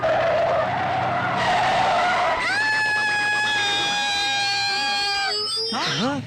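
A car's tires screech long and loud as the driver brakes hard, the squeal rising in pitch and holding for several seconds before cutting off, with background noise underneath.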